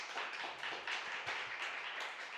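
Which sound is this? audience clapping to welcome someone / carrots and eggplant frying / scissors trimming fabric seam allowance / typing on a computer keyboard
audience clapping to welcome someone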